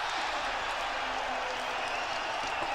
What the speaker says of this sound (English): And the crowd rises to their feet.